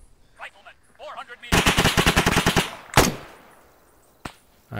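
Gunfire in the video game Arma 3: a loud, rapid burst of automatic fire of about a dozen shots, followed by a single heavy blast and a later lone shot, after brief faint voices.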